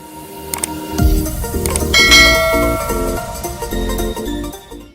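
A notification bell sound effect rings out in a quick run of loud, bright clangs and dings that ring on and decay over a few seconds.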